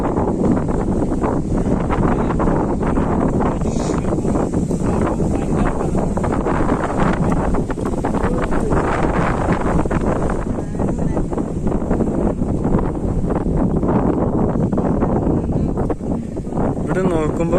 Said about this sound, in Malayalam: ഇപ്പൊ കാറ്റടിക്കുന്നതുകൊണ്ട് ഇപ്പൊ ഞാൻ സംസാരിക്കുന്നൊന്നും ക്ലിയർ ആയെന്ന് വരത്തില്ല